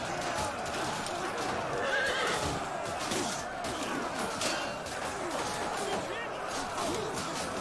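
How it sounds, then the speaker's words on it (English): Horses in the Total War Rise of Mordor video game neigh and whinny repeatedly amid a battle, with clip-clopping hooves, clashing and a continuous din of fighting, and voices faintly underneath. "Look at these horses. They're just milling in the middle of this fight."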